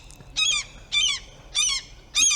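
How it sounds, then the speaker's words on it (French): Seagulls call beside a Norwegian fjord, four loud, close, harsh squawks evenly spaced about half a second apart over a faint low background. "Oh là là, les mouettes."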